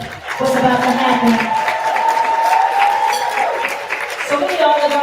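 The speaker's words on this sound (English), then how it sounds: "Can y'all clap real quick for what's about to happen?" An audience claps steadily at a women's summit lunch plenary, a dense sustained applause with some cheering, while voices carry over it throughout.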